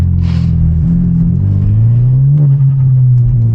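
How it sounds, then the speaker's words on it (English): A loud, close Hyundai Genesis Coupe engine with a misfire rumbles low, then revs up with rising pitch and holds a deep, throaty drone. "I'll give you guys a nice little rev."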